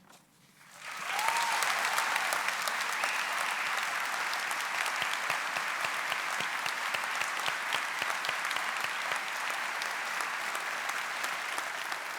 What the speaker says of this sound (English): We'll wait for the applause to subside.